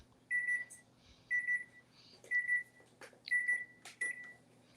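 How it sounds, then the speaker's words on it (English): A kitchen oven timer signals it is done with five evenly spaced pairs of sharp electronic beeps, loud and near, with faint background room noise and no talk. "Oh, sounds like your microwave's done."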